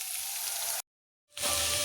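Peanuts, onion and green chilies sizzle in a kadai, a close bright hiss of hot oil that cuts out briefly and then returns.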